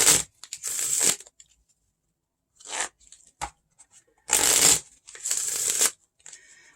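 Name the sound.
playing cards being shuffled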